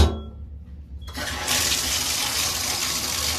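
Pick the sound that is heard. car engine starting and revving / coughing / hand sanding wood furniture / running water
running water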